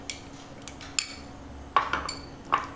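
Finely chopped onion goes into a bowl of oats and semolina batter for a veg chilla, heard as a few light clinks and taps of a utensil against the bowl with soft handling sounds in between, close and fairly quiet.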